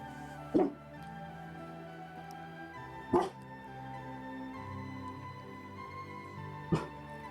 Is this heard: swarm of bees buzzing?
no